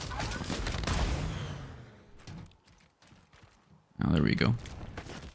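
Shots from the Fallout Tri-Beam Laser Rifle in Fortnite, hitting an NPC, come as a dense burst of rapid zaps followed by a second short volley, with someone talking over the firing.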